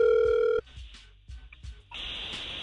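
A radio station placing a phone call on air: a steady dial tone cuts off, a quick run of dialing tones follows, and a ringback tone begins, all loud and clear with no voices.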